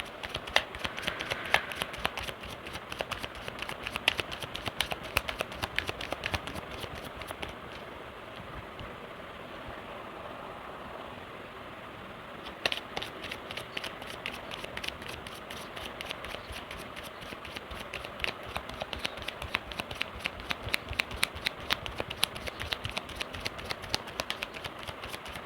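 Tarot cards are shuffled steadily and close by, a dense, continuous riffling and rustling with a short smoother stretch in the middle, no talking over it.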